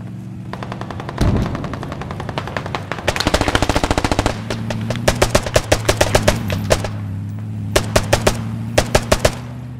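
Rapid machine gun bursts of suppressing fire in a military video game, loud and close, with single shots at first, then a dense sustained stretch, followed by a rhythmic series of spaced, sharp bursts.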